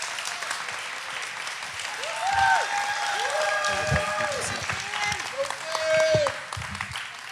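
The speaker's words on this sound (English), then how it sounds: "give Ben a hand" Clapping from a gathered audience for Ben, with a voice speaking and cheering over the applause, plus bright tonal sounds rising and falling through the middle.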